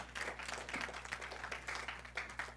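Congregation clapping during a Sunday church service in Calgary, a faint, distant patter of many hands with a low steady hum underneath, continuing evenly without talk.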